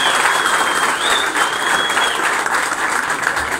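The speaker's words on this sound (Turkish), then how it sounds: "Onları tekrar kuvvetli bir alkış yapalım gençlerimize." Strong, continuous applause from an audience at a shop opening fills the whole moment, with dense clapping and a faint whistle over it.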